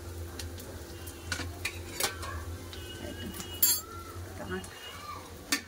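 A spoon stirring ginger paste into reddish fried onions in a pan, with soft scraping and a few sharp metallic clinks over a low cooking hum, close by and with a voice talking faintly.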